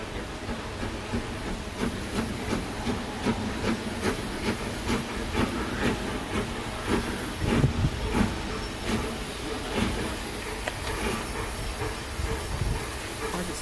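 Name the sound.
train passing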